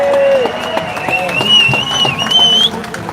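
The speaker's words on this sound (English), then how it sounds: "Can I get a round of applause for them?" A crowd at an outdoor rally in Waterford applauds, close and loud, with scattered claps under sharp, rising whistles that sweep through the noise.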